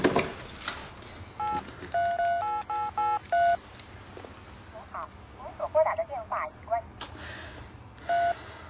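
A telephone number is dialed with a quick series of short, evenly spaced touch-tone beeps, followed by a second burst of fainter tones and a final beep, close and clear in a quiet room.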